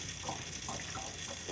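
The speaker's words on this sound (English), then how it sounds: "I'm actually gonna wash it small bits at a time because I need to squeeze out all the water" Tap water runs steadily into a sink while small handfuls of chopped cabbage are rinsed, a continuous close splashing flow with no speech.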